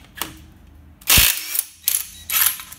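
A wheel nut being undone with a wrench: a soft click, then three bursts of mechanical whirring and ratcheting, close and fairly loud.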